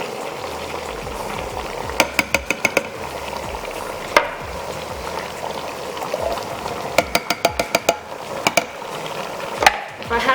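Ground beef browning in a CrockPot Express XL for chilli con carne, a steady close sizzle with bursts of sharp scraping clicks as a spoon stirs through the meat, no voices.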